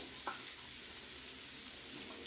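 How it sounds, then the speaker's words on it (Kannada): Ground masala for masala chitranna sizzles and fries steadily in hot oil, a soft continuous crackle with a few brief sharper pops, close and fairly quiet with no voices. "ಆ ಮಸಾಲ ಫುಲ್ಲು ಫ್ರೈ ಆಗಬೇಕು ಆಯಿಲಲ್ಲೇ"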